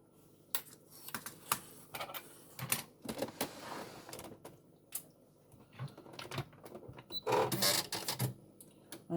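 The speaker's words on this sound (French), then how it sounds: "je vais faire une couture ici, à peu près 3-4 mm des bords, pour venir fermer en fait mon tube" A domestic sewing machine stitches a seam closing a fabric tube a few millimetres from the edge, heard as quiet bursts of rapid mechanical clicking with pauses and handling noises between runs.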